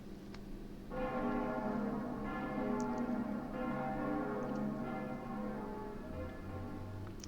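A large bell tolls in a video game, one sustained ring holding at a steady level before it slowly fades.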